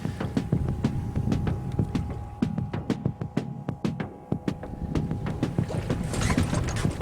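A sailboat moves through gusty Caribbean mountain winds, with steady wind rush and buffeting across the microphone and repeated sharp knocks and slaps of rigging and hull throughout.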